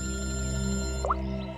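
A telephone rings with a steady electronic tone that holds throughout, loud and close. A short faint chirp sounds near the end.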